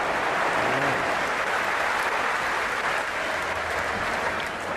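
A large crowd at a cricket stadium during an India versus Pakistan T20 World Cup match applauds in a dense, continuous wash of clapping, loud and sustained throughout with no talk over it.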